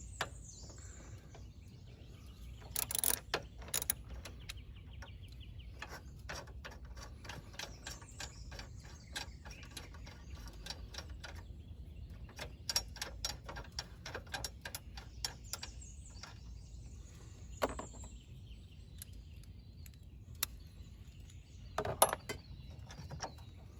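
Ratchet wrench loosening the battery terminal on a 2001 Toyota Camry, heard as faint, irregular clicking ticks with a few sharper metallic clacks over a low hum, no talking.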